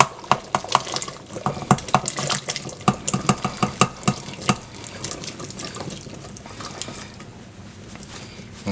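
Vegetables are poured into a power pressure cooker for oxtail stew, giving a string of close, sharp clattering and splashing hits that thin out into a softer wet rustle.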